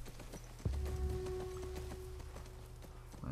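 Hooves of a horse clip-clopping in The Last of Us Part 2, a thump and then a steady run of nearby hoof strikes under a sustained tonal hum.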